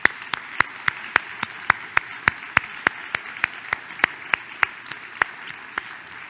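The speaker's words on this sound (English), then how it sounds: "And let's give them a round of applause." An audience at a presidential address claps for early career investigators in a sparse, rhythmic pattern of distinct sharp claps, fairly close and moderately loud, over a quiet room.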